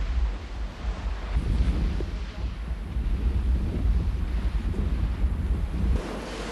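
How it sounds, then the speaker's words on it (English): A racing yacht in the 1989–90 Whitbread Round the World Race reaches down big ocean waves in heavy wind, with a loud, steady roar of wind buffeting the microphone and rushing water surging throughout. "Here we go, reaching down big waves in heavy air."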